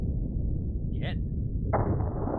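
A single shot of 350 grain Underwood jacketed hollow points: one sharp, sudden report that stands out clearly above the steady background rumble, followed shortly by a harsh, sustained hiss.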